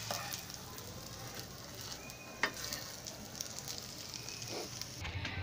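Chicken burger patties fry in a pan with a steady, soft sizzle and occasional crackles and pops, heard close and alone without talk.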